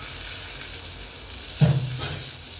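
Tomatoes drop into a pan of frying mussel (kallummakkaya) masala: a steady, moderate sizzle swells into a brief louder hiss and crackle as they land, then settles back.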